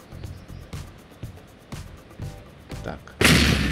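A large ship railgun in Space Engineers fires once near the end, a sudden loud broadband blast that cuts in after several softer thuds and stays heavy to the finish.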